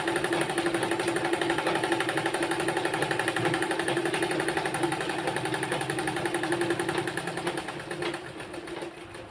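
A sewing machine stitches a garment sleeve in a steady, rapid mechanical chatter that runs continuously and close, easing slightly near the end.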